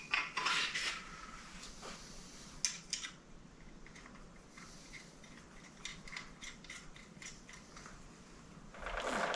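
Metal parts clink and scrape as the oil pickup and oil pan go onto a Kubota D1105 diesel engine during a rebuild, with sharp taps and a ratcheting clatter near the start and end and quieter handling between.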